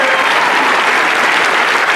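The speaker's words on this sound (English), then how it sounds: "you can keep the applause going" Sustained dense clapping from an audience at the 2017 Aurora mayoral inauguration, even and continuous with no talk over it.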